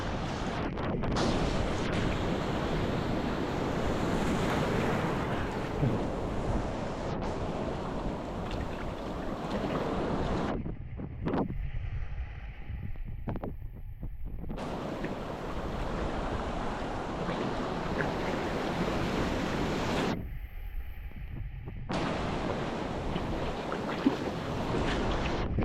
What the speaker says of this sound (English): Beautiful beach though.